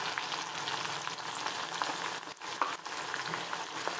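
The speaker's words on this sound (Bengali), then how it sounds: "আদা রসুন বাটা দিল" Ginger garlic paste frying in a pan for a Bengali egg and potato curry, giving a steady, dense sizzle with faint stirring scrapes throughout, close and fairly loud, with no one speaking.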